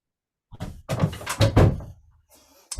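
A room door being shut at home during a remote interview call gives a short series of close thumps and rattles over about a second and a half, then a quieter tail and a final knock.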